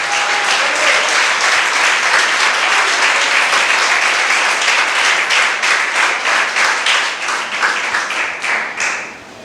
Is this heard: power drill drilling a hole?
no